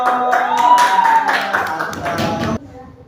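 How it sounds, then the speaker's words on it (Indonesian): A classroom of students clapping hands together, quick overlapping claps mixed with voices for a couple of seconds before stopping abruptly. "Ayo tepuk tangan dulu."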